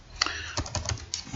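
Rapid, uneven clicks of fingers typing on a computer keyboard, several close keystrokes with short gaps between bursts, heard alone with no voices.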